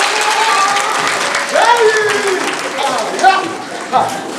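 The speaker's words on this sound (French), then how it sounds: "Allez, applaudissez-moi." Children applauding at an outdoor gathering in Burkina Faso, a continuous patter of clapping mixed with excited young voices and shouts.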